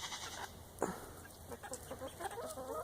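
A black bantam cross chicken clucking nearby, several short low clucks and a brief squawk over a steady background hum.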